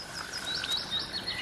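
Frog croaking steadily in an outdoor nature setting, layered with insect or bird-like chirps, continuous and moderately close without any talking.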